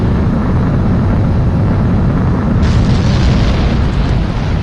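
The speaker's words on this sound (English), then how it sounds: "Omega 11, you are cleared for takeoff" Fighter jet taking off in Ace Combat 7: a loud, close, continuous engine roar with heavy low rumble, holding steady and brightening slightly partway through, no talk.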